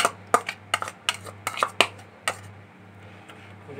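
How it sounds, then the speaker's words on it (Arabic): Boiled eggplant and peppers being mixed with lemon juice in a large bowl, a quick series of sharp utensil clinks and knocks that then fade to quiet background hum. "ونقلبها عشان كله يمتزج ببعضه"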